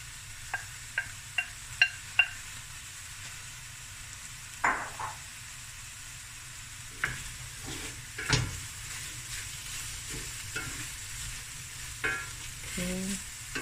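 Mushrooms stir and fry quietly in a pan for a chicken and brown rice dish, with soft sizzling under a run of sharp utensil scrapes and taps, some clustered early and others spaced apart.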